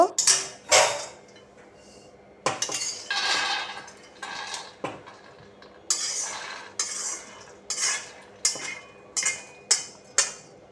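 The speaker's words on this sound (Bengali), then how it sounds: "এবার আমি বাদামটা একটা থালায় ঢেলে নেব" Roasted peanuts tipped from a hot pan onto a metal plate, giving several loud clattering rattles and scrapes in short bursts with quiet gaps between, close by and with no talking.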